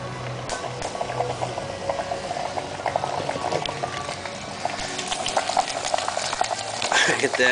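Vigorous, continuous bubbling and fizzing of 74-degree water in a reservoir fed by a 4n4 6-inch hydrogen dry cell, close and fairly loud, growing more intense toward the end.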